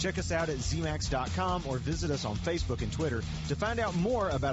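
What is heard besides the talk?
No distinct noise like a dog, phone or traffic.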